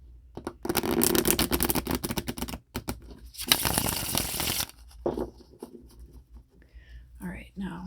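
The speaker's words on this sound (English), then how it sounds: "Shuffle one more time." Tarot cards shuffled by hand for an ASMR reading, a dense riffling burst, a pause, then another riffle, followed by quieter card handling as a voice speaks softly nearby.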